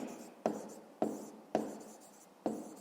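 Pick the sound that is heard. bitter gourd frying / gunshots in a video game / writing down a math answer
writing down a math answer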